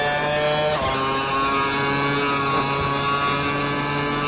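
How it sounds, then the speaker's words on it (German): A Sauber Formula 1 car in F1 2012 on its first practice lap at Melbourne, its engine whining at a loud, steady high pitch with brief dips at gear shifts, heard alone with no talking. "dann machen wir mal die erste Runde hier in unserem neuen Auto"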